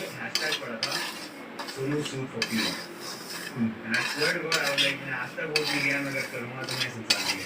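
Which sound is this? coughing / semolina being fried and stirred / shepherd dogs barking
semolina being fried and stirred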